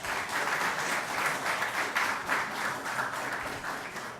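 A studio audience breaks into applause, a dense bright clapping with gentle surges in intensity, steady and fairly close throughout with no talking.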